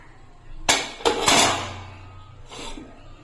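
A tray of biscuits is set down into a preheated pot on a stand over a gas flame, two close metallic clanks followed by a scraping settle and a softer knock a moment later.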